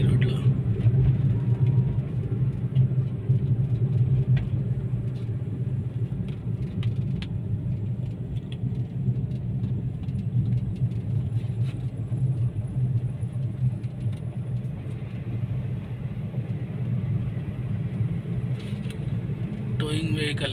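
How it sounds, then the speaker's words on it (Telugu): A tow truck carrying a car rumbles past on a ghat road between Rapoor and Rajampet, making a steady, moderately distant engine drone that holds evenly throughout. "టోయింగ్ వెహికల్ ఏమో వెళ్తుంది, కార్ తీసుకెళ్ళిపోతున్నారు"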